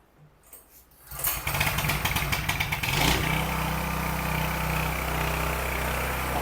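A 3,500-watt portable generator being test-started: quiet handling sounds, then the small engine catches at about one second, running rough and sputtering before settling into a loud, steady drone.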